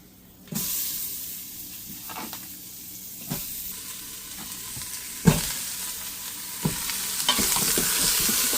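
Spicy mutton curry fries in a pan and is stirred, a loud hissing sizzle that bursts in when the food hits the oil, broken by repeated scraping knocks of the spoon, close and without talk.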